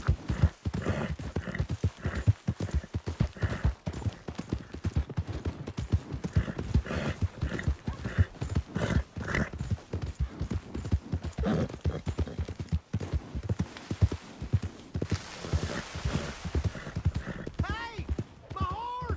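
Horse hooves clip-clop steadily in Red Dead Redemption 2, a rhythmic trot heard close under frequent spoken dialogue, with a brief whinny near the end.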